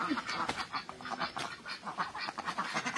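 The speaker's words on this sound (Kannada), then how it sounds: "ನಮ್ಮ ಮನೆ ಡಕ್ಕು ನೋಡಿ" A group of about five domestic ducks kept at a home quacks almost continuously in a busy, overlapping chatter, moderately close, with no voices.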